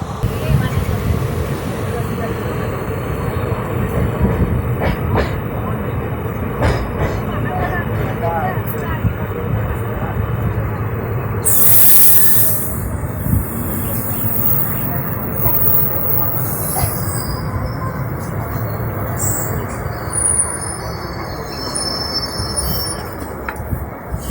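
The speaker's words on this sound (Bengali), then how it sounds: "হাওড়া থেকে একশো তিপ্পান্ন কিলোমিটার পথ অতিক্রম করে আমাদের ট্রেন পানাগড়ে এসে পৌঁছেছে" The Howrah–Siuri Hool Express rumbles steadily along the rails near Panagarh with a continuous low roar and rhythmic clatter, a high squeal briefly rising midway, while someone talks over it.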